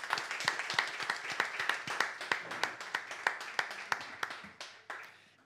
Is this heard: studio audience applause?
yes